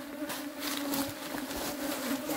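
Bees buzz densely around a hive in an apiary where honey supers are being added, a steady close swarm drone with individual insects swelling past, loud and continuous with no talk.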